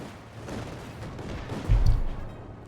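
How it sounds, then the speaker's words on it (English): Bursts of rifle fire from Lee Enfield Mark IV rifles in a Company of Heroes 2 battle, a scattered volley with one heavier crack near the end over a steady game din. "Lee Enfield Mark IVs there ripping into the training grenadiers."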